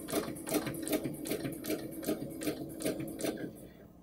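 A sewing machine stitches a quilt guided by a Westalee ruler template. Its fast, steady mechanical chatter pulses in an even rhythm, fairly close and moderately loud.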